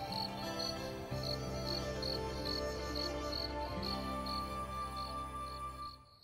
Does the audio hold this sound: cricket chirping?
yes